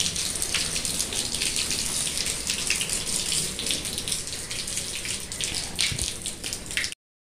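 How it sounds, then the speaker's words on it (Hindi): Tap water pours steadily into a container as drinking water is filled at home, a continuous splashing rush with no talk, ending in a brief silence. "फिलहाल मैं अभी पीने का पानी भर रही हूँ,"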